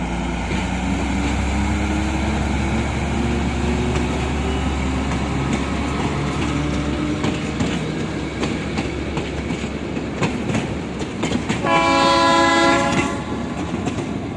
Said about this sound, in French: Voilà, c'était le vieux train de la gare. Le train arrive.